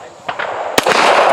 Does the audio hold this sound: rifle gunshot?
yes